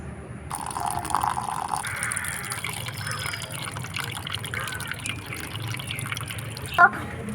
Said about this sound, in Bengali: এটা খুব ভালো করে জল পাল্টিয়ে ধুয়ে নিতে হবে